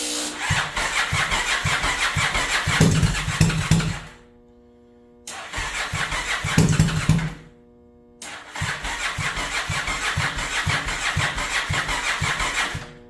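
Turbocharged motorcycle engine cranking and catching in three bursts, each a loud chugging run of rough firing pops lasting a few seconds, separated by short silences, close up with no talking.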